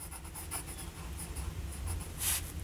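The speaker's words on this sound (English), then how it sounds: "let's do a writing sample" A Parker Jotter fountain pen with a medium nib writing on a dot-grid paper pad, soft continuous scratchy strokes heard up close and quiet, with no voice.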